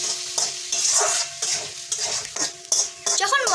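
A spoon stirs ground chili, turmeric and salt into a pan of coriander paste, scraping and clinking against the metal in irregular strokes over a faint sizzle, close up and with no one speaking.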